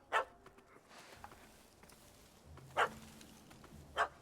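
A dog in the video game The Witcher 3 barking: three short, sharp barks spaced apart, faint and distant, over quiet game ambience.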